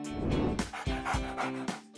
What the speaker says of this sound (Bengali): এই যে তোমার ডগ।